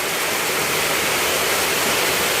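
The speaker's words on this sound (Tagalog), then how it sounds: "Kasi yung tubig galing sa kalsada, pumupunta dito, bumababa." Heavy rain floodwater pours in from the street through a blocked drain into a home, a dense, unbroken roar of rushing water up close, steady and loud throughout.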